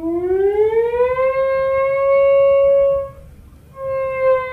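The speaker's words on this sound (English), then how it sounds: "It takes quite a bit of coordination to play the theremin well" A theremin plays alone, loud and close: a smooth electronic tone glides upward and holds a steady pitch, cuts off briefly, then returns.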